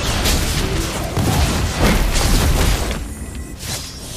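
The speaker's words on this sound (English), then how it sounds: "Your team destroyed a turret!" A turret is destroyed in a competitive mobile battle game, setting off dense, rumbling booms and crackling blasts that stay loud and continuous before easing off slightly near the end.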